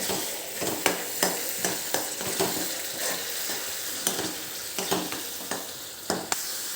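Tomato puree sautéing with a pinch of salt in a pan, a soft continuous sizzle punctuated by regular scraping knocks of a spoon stirring it, quiet and close, no speech.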